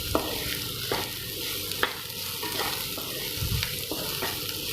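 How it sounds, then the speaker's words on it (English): Chopped onions fry with ginger and green and red chilies for a vegetable rava upma, giving a steady close sizzle broken by a few sharp utensil scrapes and stirring taps at uneven intervals. "Then slowly add in chopped onions, fry nicely."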